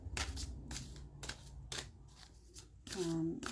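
Cards being shuffled in several quick riffling bursts, followed by a brief tonal hum near the end.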